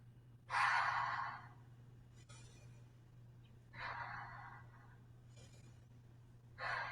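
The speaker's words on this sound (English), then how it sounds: "Inhale up, exhale down." Slow, deep breaths during a yoga flow: three audible exhales and inhales spaced a few seconds apart over a steady low hum, close and unhurried, with no talking.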